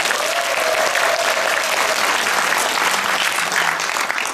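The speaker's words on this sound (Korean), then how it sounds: "힘찬 박수 부탁드립니다." An audience at a political party event breaks into continuous applause, loud and dense, holding steady for several seconds with faint voices beneath the clapping.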